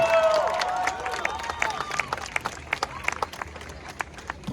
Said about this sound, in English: One more round of applause for the former mayor